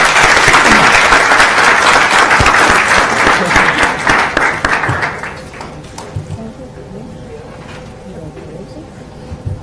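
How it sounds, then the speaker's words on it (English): Room full of people clapping for students at a June 2019 OPS Board of Education meeting, dense and loud for about five seconds before fading to scattered claps under a murmur of voices. "just give these students another round of applause"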